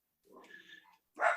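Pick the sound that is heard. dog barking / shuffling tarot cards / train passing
dog barking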